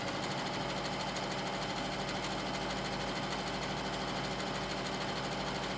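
A Janome M7 Continental sewing machine stitches quickly, making a constant fast mechanical whir with an even rhythm of needle strokes. It sounds close but fairly quiet and runs alone.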